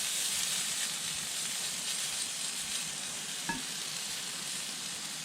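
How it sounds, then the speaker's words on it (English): Sausages frying in a pan inside a heated tent in an Idaho winter: steady sizzle with a constant hiss, close and fairly loud, plus one brief clink partway through. "cook up some sausage"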